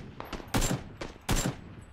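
AK rifle fire in the game PUBG arrives as two loud, sharp bursts of rapid shots about three-quarters of a second apart, with fainter single cracks before them.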